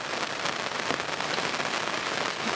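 Rain pours down steadily at a carp fishing lake in Yorkshire, a dense, continuous hiss of drops hitting the surroundings that stays loud and even throughout, without speech.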